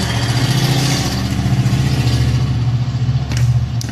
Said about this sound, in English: Hear the big bad trucks going by.